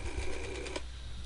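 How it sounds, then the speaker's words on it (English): An old rotary dial phone in the Pierre Hotel flash game gives a short burst of mechanical dialing clicks and whirring. After about a second it falls quiet, with no voices. "I like the phone. It's like a very old dial phone,"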